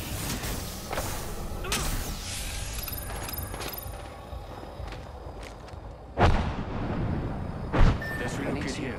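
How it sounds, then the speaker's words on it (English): Grenade blasts in Apex Legends, two sharp booming bursts a little over a second apart, standing out from steady background battle noise and footsteps. Voices talk throughout. "They're throwing grenades, right?"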